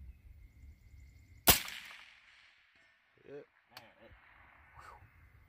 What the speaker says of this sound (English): now I'm shooting the Hornady Black out of it